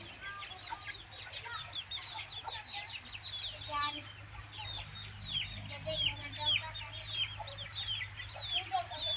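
A native-breed hen clucks softly while her many chicks peep in rapid, continuous high chirps, steady and fairly faint throughout.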